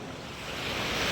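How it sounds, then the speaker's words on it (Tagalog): Ocean waves rolling in at a fishport on a day of big swells, a broad continuous wash of surf with wind noise, slowly building in loudness with no voices. "kita nyo naman lalaki ng alon"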